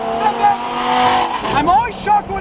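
Supercar engine and exhaust, likely a Ferrari Stradale, rumbling and revving close by with tire squeal, while people talk over it throughout.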